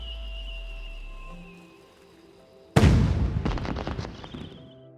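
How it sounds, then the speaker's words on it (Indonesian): Festival fireworks launching, a sudden loud boom after a quiet lull, followed by a crackling burst of rapid pops that fades over the next couple of seconds. "Lalu kembang api pun diluncurkan."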